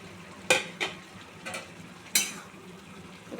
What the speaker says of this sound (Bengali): এবার এটাকে ভালো করে মিশিয়ে আবার আমি রান্না হতে ঢাকা দিয়ে দেবো